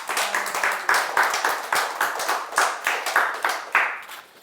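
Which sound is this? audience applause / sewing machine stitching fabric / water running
audience applause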